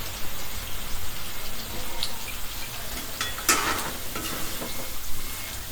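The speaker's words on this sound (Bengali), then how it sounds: "আলু দিয়ে আমি এখন একটু ভালোভাবে নেড়ে নিব।" Chicken and potatoes stirred in a hot pan with oil, giving a steady close sizzle with scraping and clinks from the spoon.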